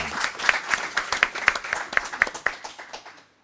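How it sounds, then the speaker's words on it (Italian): Applause at the FIASP national assembly in Italy, a short burst of clapping from a small audience with distinct sharp claps that thin out and stop abruptly after about three seconds, with no talk. "Un applauso."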